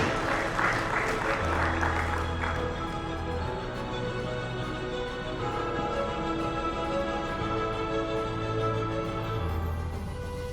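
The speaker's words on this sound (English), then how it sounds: "Let's give him a big round of applause as well." Steady audience applause at an awards ceremony in a hotel venue, many hands clapping continuously at moderate distance with a sustained musical tone running underneath, no break in the clapping across the whole stretch.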